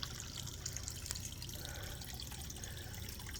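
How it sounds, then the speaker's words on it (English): Water overflows from a garden fountain after a hailstorm, producing a soft continuous trickle and splash with faint drips, quiet and steady with no speech. "Fountain is overflowing."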